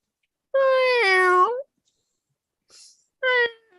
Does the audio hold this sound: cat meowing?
yes